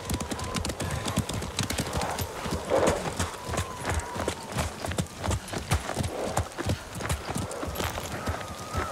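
Horses galloping in Ghost of Tsushima, a dense steady clip-clop of hooves close by with a brief whinny, over a background of ambient game sound.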